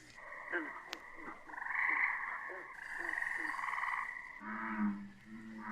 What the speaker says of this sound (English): that's the tree frog